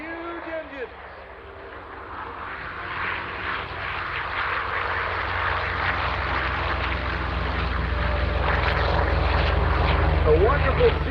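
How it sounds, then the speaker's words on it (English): Large propeller-driven aircraft engines at an airshow, a broad steady drone that grows gradually louder through the clip, with a voice briefly heard at the start. "We'll let you listen to these huge engines."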